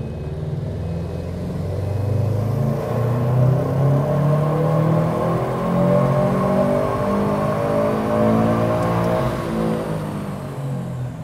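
A tuned car engine revs steadily during a test run on an off-the-shelf map, a loud, continuous rising and falling drone heard alone without talk.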